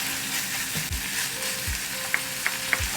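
Minced meat stir-fried in a hot pan with fish sauce, a steady sizzle with light spatula scrapes and taps near the end.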